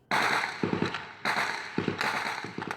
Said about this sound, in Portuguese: Era possível ouvir os tiros de diversos pontos da comunidade